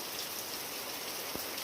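Rain falling outdoors in a village, a dense, even hiss of drops on surfaces filling the whole moment, steady and moderately distant with no voices.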